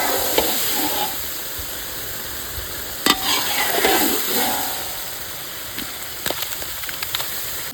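Spicy chicken legs fry in a pan while being stirred, a soft continuous sizzle with occasional scraping clatters of the spoon against the pan, close and fairly quiet.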